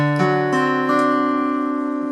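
A few plucked guitar notes of a descending riff ring out, each new one struck over the last and sustaining cleanly, close and fairly loud with no voices.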